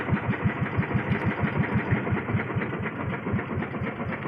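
A fishing boat's engine runs steadily at sea, a rapid, even chugging pulse that dominates throughout at close range with no talking over it.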